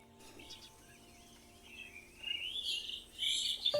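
Birds chirp faintly at first, then a burst of louder, high tweets rises toward the end against a quiet background.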